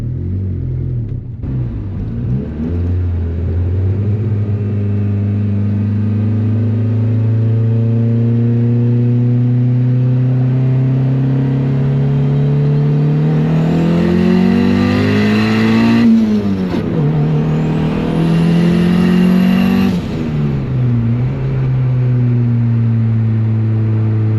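A turbocharged Honda Civic pulls hard through the gears, the engine droning loud and close as its pitch climbs, drops at a shift, then climbs again, with turbo whistle and hiss over the top and no talking.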